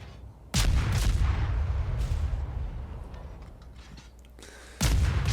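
Heavy naval guns boom from a warship firing at an aircraft carrier in World of Warships, two loud salvos with a long rumbling tail between them and no voices.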